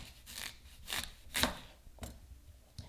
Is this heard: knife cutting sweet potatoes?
yes